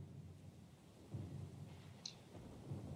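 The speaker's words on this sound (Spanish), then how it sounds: "La tormenta es muy ruidosa." Distant thunder rumbles through a stormy night in the fantasy RPG Pillars of Eternity 2: Deadfire, low rolls swelling and fading at a moderate level with a faint patter of rain beneath, no voices.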